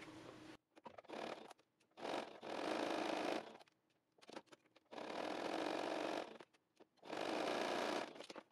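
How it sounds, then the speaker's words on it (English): A sewing machine runs in four bursts of rapid stitching, each a second or so long, separated by short quiet pauses with small handling noises. "I'm gonna take this to the sewing machine, 1/4 inch down both sides"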